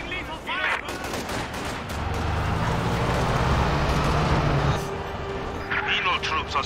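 Gunfire and combat noise in the World War II strategy game Company of Heroes 2 at the Lublin battle, a loud continuous roar of shooting and rumbling engines, with voices calling out over it.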